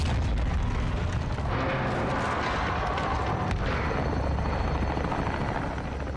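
Military air-support helicopter in the 2022 video game Modern Warfare 2, a loud continuous rotor roar with heavy low rumble and blasts of battle noise mixed in, steady throughout.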